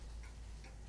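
Faint, slow ticking of a clock in the Spirit Hunter: NG video game, two soft ticks over a low steady hum, with no voices.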